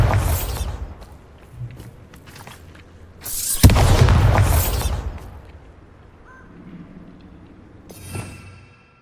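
A Bombarda blasting spell goes off in Hogwarts Legacy, a loud booming burst with a rumbling tail, set among earlier scattered hits and a later sharp crack in a cave.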